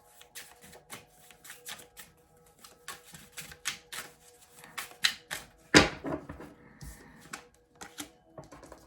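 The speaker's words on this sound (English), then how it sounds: "let's just finish this shuffling" Tarot cards being shuffled by hand, a string of crisp close riffling taps and flicks with one louder burst midway, no talk.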